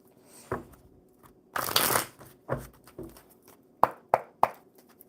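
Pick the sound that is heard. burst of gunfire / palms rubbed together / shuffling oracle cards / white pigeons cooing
shuffling oracle cards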